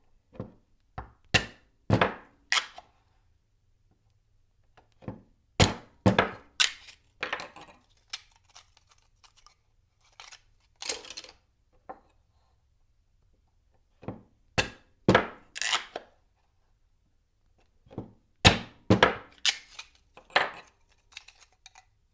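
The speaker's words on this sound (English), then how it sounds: "split them carefully with a knife and a rubber hammer to avoid injuring your hands or wrists" Sharp, irregular knocking and tapping strikes in short bursts as a knife is driven with a rubber hammer to split a tube, with quiet pauses between groups of blows.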